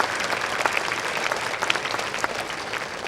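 Applause from an audience at a community kick-off event with school classes present, steady dense clapping throughout, moderately loud and fairly distant, with no talking over it.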